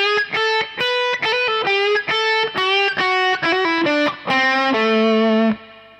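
An electric guitar through distortion plays a blues turnaround lick in A, a quick run of sharply picked notes and double stops ending on a long sustained note that fades out.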